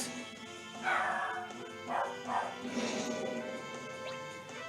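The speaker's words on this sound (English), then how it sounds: "if you guys hear my dog barking" A dog barks in the background, a few muffled yips and bow-wows spaced across a few seconds, faint and somewhat distant under a quiet indoor setting.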